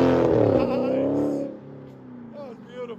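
A 2015 Dodge Challenger Scat Pack with a 6.4-liter HEMI V8 revs loudly, its exhaust snarl rising and then falling away into a lower idle, with a short second blip near the end and a voice mixed in.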